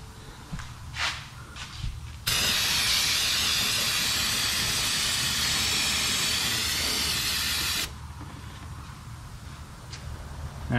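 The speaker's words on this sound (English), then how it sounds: "go ahead and hit it with some brake clean" Brake cleaner sprayed onto the underside of a Ford Edge after an oil change: a loud, steady aerosol hiss lasting about five seconds, with quieter garage ambience and faint knocks before and after.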